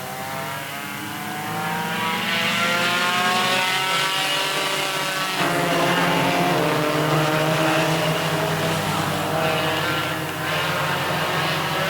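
A pack of Roadrunners-class race cars roars off at the start of a 25-lap short-track race, engines swelling from a low drone into a loud, sustained, rising multi-car howl that holds for several seconds.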